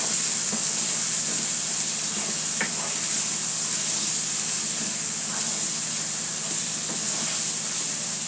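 About 300 grams of meat sizzles in a hot pan while pasta is cooked, giving a steady, fairly loud hiss throughout with a few faint stirring clicks and no talking.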